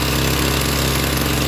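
Small carburetted engine running loud and close at steady high revs, a constant buzzing drone with no pause, during carburetor tuning of the L and H screws.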